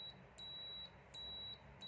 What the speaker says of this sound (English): So buzzer is just for connectivity.